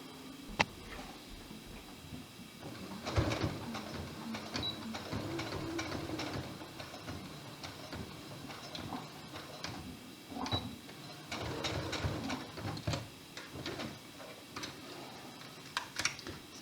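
A domestic sewing machine stitches across the base of a small triangle on a polo shirt placket, producing quiet, uneven runs of rapid mechanical ticking that stop and start in short bursts, close by with no talk.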